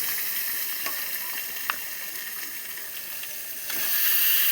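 Drained meat goes into a pan of lightly browned potatoes, a steady loud sizzle and frying hiss that swells near the end as the meat hits the hot oil.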